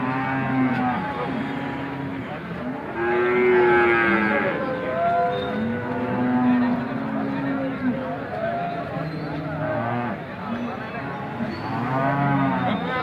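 Cows mooing repeatedly, loud and close, at a busy cattle market at Alephata in Maharashtra, with a crowd's chatter and talking voices running underneath throughout.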